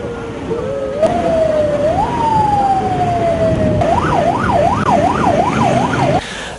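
A loud ambulance siren, first a rising wail, then switching to a fast up-and-down yelp, close by and dominating before cutting off.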